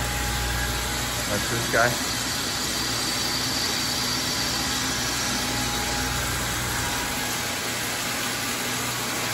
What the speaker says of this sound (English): Start the high pressure pump.